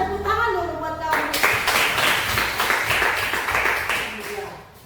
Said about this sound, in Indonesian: Tepuk tangan dulu buat kamu.